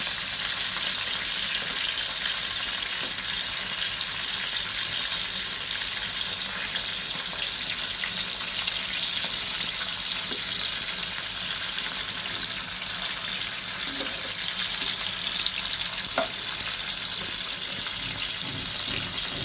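Hilsa fish heads fry in oil in a pan, making a steady, loud, close sizzle that runs unbroken for about twenty seconds with faint crackles.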